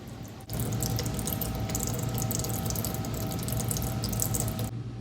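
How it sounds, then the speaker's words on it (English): Engine oil drains out of a Toro zero-turn lawnmower in a steady, continuous splashing pour that runs evenly for several seconds. It is close and moderately loud, with no voices. "take the oil cap off, get a little air in the crankcase, let our oil drain out here"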